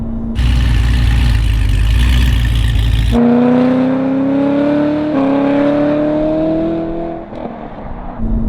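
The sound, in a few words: car engine exhaust idling and revving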